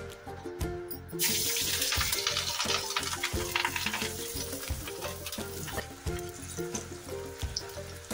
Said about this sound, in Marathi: हिरव्या मिरच्या होत्या, तडातड उडायला लागल्या